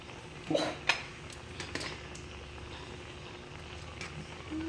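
Pasta is stirred in a metal pot, with a few sharp clinks and scrapes of a utensil early on, then a quiet, low background hum, with no voices.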